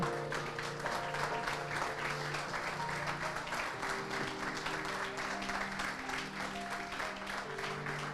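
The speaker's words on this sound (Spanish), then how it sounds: "Dale un aplauso." Steady applause from a church congregation during a Spanish-language sermon, even and sustained throughout with music or tonal sounds running underneath.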